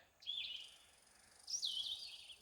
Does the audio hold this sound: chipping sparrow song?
yes